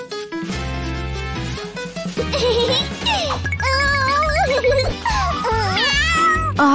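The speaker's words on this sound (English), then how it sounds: "Pit, you can't hide that kitten forever." Cartoon kitten meowing repeatedly over a bright children's song, its high rising and falling cries loud and clear above the music throughout.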